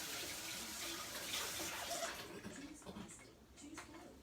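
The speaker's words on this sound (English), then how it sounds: "So now let's rinse my fingers." A kitchen tap runs as fingers are rinsed under it, a faint, steady stream of splashing water that breaks up slightly toward the end, with a voice speaking over it.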